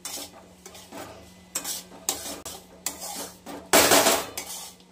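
A spoon stirs and scrapes ingredients in ghee in a metal pan, sounding as a series of loud clattering knocks and scrapes with a low steady hum beneath and a louder burst near the end.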